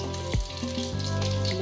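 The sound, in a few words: boal fish frying in a covered pan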